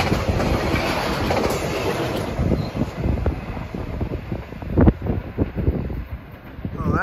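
A train passes Malvern station on the Keystone Corridor, its loud close rumble and rhythmic clickety-clack of wheels over rail joints building and surging, with wind buffeting the microphone.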